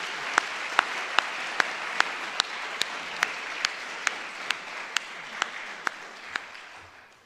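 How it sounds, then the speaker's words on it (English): A live audience applauds Senator Sanchez at a journalism forum awards ceremony, a broad steady wash of clapping with some sharper individual claps standing out, fading near the end. "let's give a round of applause for Senator Sanchez"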